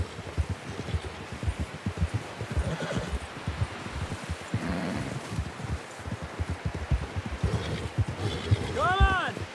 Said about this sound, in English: Someone help John down off this horse.